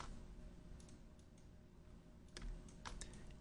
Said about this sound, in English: So I'm just going to type first and